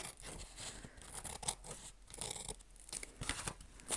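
Scissors snip through a page of a napkin journal close to the spine, giving a quick series of soft, crisp cuts and paper rustles at close range.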